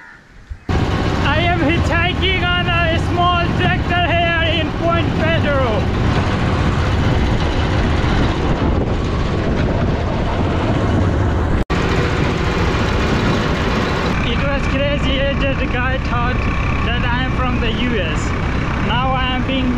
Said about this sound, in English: Hitchhiking on a small tractor here in